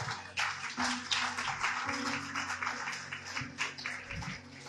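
Church congregation applauding during a Spanish-language sermon, a steady dense wash of many hands clapping at low level, with a faint hum and tonal background underneath and no talk over it.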